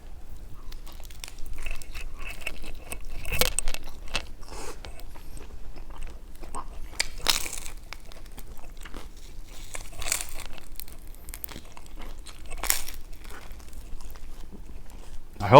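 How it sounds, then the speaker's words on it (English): Crunching bites into a pizza crust at a close microphone, scattered crisp cracks and chewing noises recurring irregularly over quiet background, with occasional faint rustling. "I hope you guys can hear the crunch in the mic."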